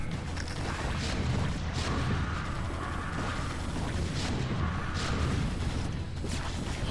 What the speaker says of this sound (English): Siege tanks are firing here